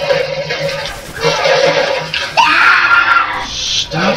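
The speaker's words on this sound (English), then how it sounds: "Stop screaming! Seriously!" Person screaming during a Modern Warfare 3 multiplayer match, with shrill, strained cries in several bursts over game noise, loud and close.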